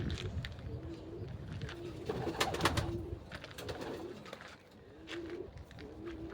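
A pigeon, probably a hen bird, coos softly in a loft, low repeated cooing phrases recurring a few times against faint background noise and rustling.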